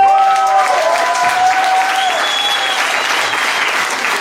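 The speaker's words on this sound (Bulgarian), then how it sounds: "аплодисменти за нея" Audience applause at a Bulgarian songs-and-festivals event, steady and loud throughout, with a sustained tonal musical note drifting above the clapping and crowd.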